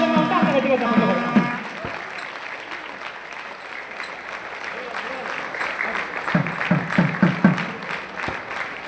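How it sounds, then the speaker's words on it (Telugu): Wedding ceremony guests clapping at a Jaya Lakshmi Narasimha Swamy Kalyanam, with a voice speaking over the start, then a sustained crowd applause with bursts of sharper, louder claps near the end. "చప్పట్లు కొట్టాలి గట్టిగా"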